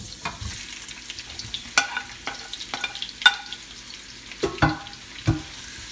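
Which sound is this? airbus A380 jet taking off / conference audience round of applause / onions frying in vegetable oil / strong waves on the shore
onions frying in vegetable oil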